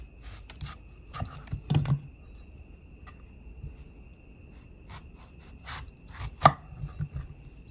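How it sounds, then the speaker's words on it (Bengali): A knife chops a large peeled raw mango into long, thick pieces for a Kashmiri-style pickle, giving sparse, sharp board taps with a small cluster of quicker cuts, close and fairly quiet, with no talking. "এখন আমগুলো পিস করে কেটে নেব।"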